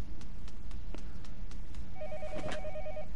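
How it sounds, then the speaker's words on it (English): A telephone rings in a PS4 video game, with repeated trilling bursts sounding clearly over a quiet background ambience. "who's answering the phone?"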